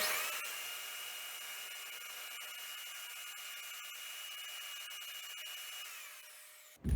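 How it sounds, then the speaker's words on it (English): An electric drill runs steadily at high speed, a thin continuous whine with a faint grinding edge held alone throughout, powered inside an old log cabin, then stops abruptly at the end. "Now I'm going to start the drill."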